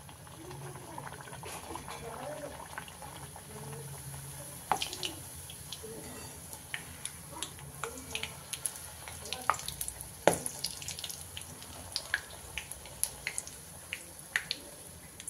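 Maida puri dough fries in hot oil with a soft continuous sizzle and scattered crackling pops that grow more frequent, while someone talks over it.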